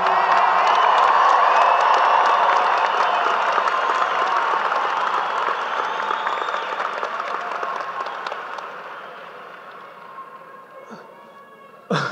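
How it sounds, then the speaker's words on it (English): A large arena crowd at a university commencement applauds and cheers the graduating class, a dense sustained roar of clapping and shouts that slowly fades, then a brief burst at the very end. "Can we get one more giant round of applause for the class of 2023?"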